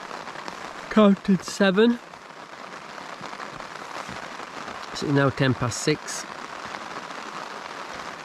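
Steady rain pattering on a tent while wild camping, a continuous broadband hiss throughout with a person talking briefly over it twice.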